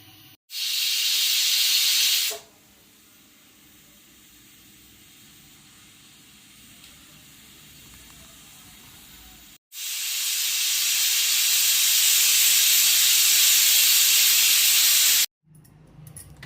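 Loud, steady hiss of steam venting from a pressure cooker in two long bursts, separated by a quieter stretch of low background noise.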